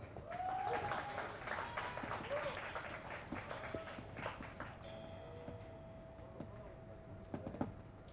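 Audience applause welcoming a band onto an outdoor stage at the Tiehua Village music venue on a rainy night: a steady wash of clapping through the clip, with a voice briefly heard over it near the end.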